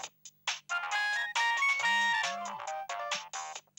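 A mobile phone ringtone plays a bright electronic melody of rising and sliding tones, close and fairly loud, with short pauses between phrases and no voices.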